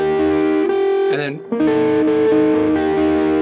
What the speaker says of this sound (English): throwing on some distortion, and he's doing this little chord thing right here